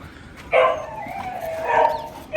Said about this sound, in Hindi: जैकी को, जैकी है ना छोटा, उसको पता चल गया मैं आ गया, इसलिए भौंक रहा है वो।